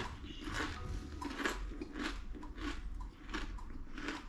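Hand cooked kettle chips are bitten and crunched close to the mic, with a steady series of loud crisp crunches and chewing, about two or three bites per second, and no talking.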